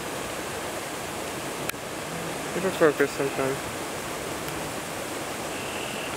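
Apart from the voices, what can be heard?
rushing water of a small rivulet after heavy rain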